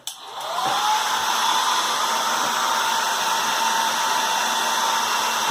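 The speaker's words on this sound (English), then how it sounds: "hairdryer on warm." A hairdryer on its warm setting, used to heat sticker markings on a Dyna-Soar orbital shuttle rocketry model kit, switches on with a quick rise and then blows a loud, steady whine and rush of air with no talking.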